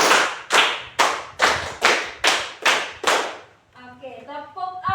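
Rhythmic hand clapping in a classroom counting exercise, a steady run of sharp, loud claps at an even beat, followed by a voice speaking briefly.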